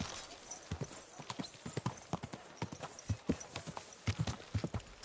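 Horse hooves clip-clop in a steady, close rhythm while riding in Kingdom Come Deliverance 2, continuous and alone with no talk over them.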